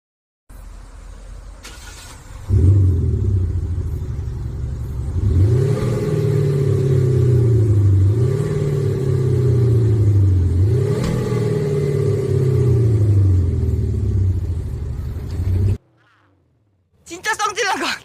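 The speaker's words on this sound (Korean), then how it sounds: "우리 쿠파텍 액티브 배기 사운드 응. 꼭 한번 들려드려야겠습니다." A KG Mobility Torres SUV fitted with a Kupatec active exhaust starts up close by, settles into a deep, loud idle, then gets three strong revs that swell and fall back before cutting off abruptly.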